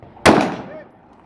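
A single close gunshot during a CQB shooting drill, a loud sharp crack followed by a short ringing decay, with a faint voice around it.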